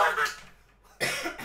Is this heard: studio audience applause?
no